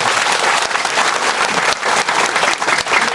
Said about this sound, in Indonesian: Nyuwun tepuk tangan